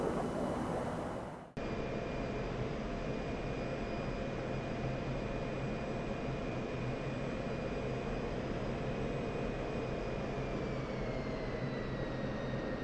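F-16 jet engine in the DCS flight simulator game, a steady, loud broadband roar with a faint whine, cut abruptly near the start and then held evenly throughout.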